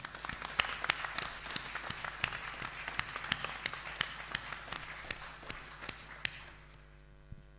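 A small audience at a podcasters' panel claps sparsely, with distinct individual hand claps in an uneven rhythm that taper off, leaving a faint hum at the end.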